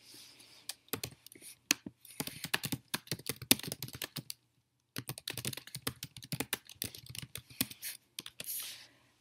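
Typing on a computer keyboard to write a forum note, with close, brisk bursts of key clicks separated by a short pause, no voices.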